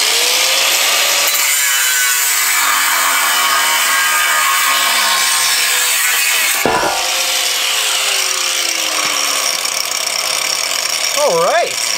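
A grinder cuts through a workbench leg in a shop, giving a loud continuous abrasive whine that sweeps in pitch, pauses briefly mid-cut, then resumes, with a short spoken remark near the end.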